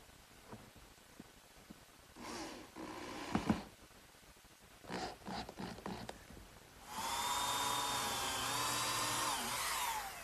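A power drill driving screws into pine support blocks on a chest-on-chest in a woodworking shop, short bursts and rustling handling, then a sustained whining run near the end, fairly quiet with no talking.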